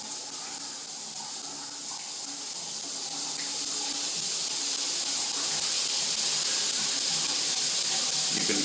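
A Moen ioDigital shower head is cranked up to a strong stream, its steady hissing spray growing louder and denser over the first few seconds and then holding at a constant rush.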